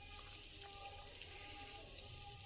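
Chicken nuggets fry in medium-hot oil in a kadhai wok with a faint, steady sizzle and crackle that holds evenly throughout.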